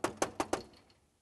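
Four quick, sharp knocks on a door in an even rhythm during a puppet show rehearsal, close and fairly loud, then a fading ring.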